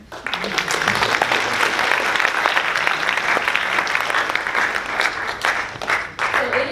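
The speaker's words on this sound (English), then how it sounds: "So round of applause for her." A college audience breaks into strong, sustained applause that holds steady, then thins out slightly near the end.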